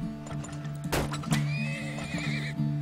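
Horse in the oil-drilling game Turmoil neighing loudly, a bright whinny over steady hoof clip-clop and a looping game melody, no talk.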